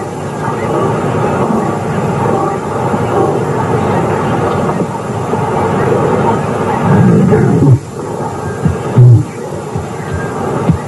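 Lioness roaring in the wild, deep rumbling roars and low grunts rising over a steady background hum, with a narrator's voice talking throughout.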